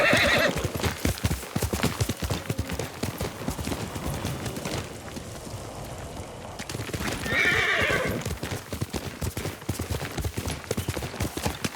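Video game horse: steady clip-clop of hooves throughout, with a loud whinny at the start and another partway through, close by.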